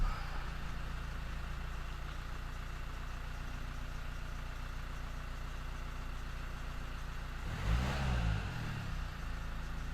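A 2015 Nissan Juke 1.5 dCi diesel with a boost fault idles steadily and close by, then gives a brief rev near the end before settling back. No one speaks.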